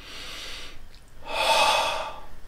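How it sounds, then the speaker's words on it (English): A person breathes deeply, drawing a steady breath in through the nose and then pushing a louder, breathy exhale out through the mouth, close to the listener with no talking. "breathe out through your mouth."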